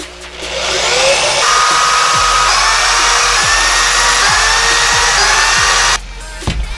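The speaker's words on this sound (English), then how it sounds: "Now we're gonna drill it out." A power drill whines steadily as it bores through aluminum, loud and close, with a few clicks underneath before the motor cuts off.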